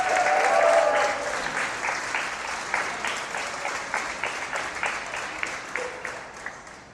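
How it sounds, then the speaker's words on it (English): Audience applause at a gaming tournament, a dense wash of clapping that swells early and then thins into scattered, individual claps as it tapers off. "So give them a round of applause."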